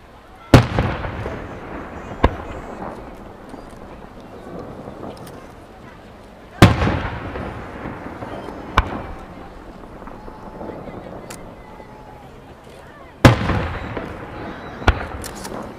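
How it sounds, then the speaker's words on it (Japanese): Six-colour rainbow fireworks burst in several booming explosions spaced apart at a Nakagawa river fireworks festival, each followed by crackling and rumbling echoes, with a murmuring crowd and voices between blasts. "6色の星を使った虹色の花火をあげます。"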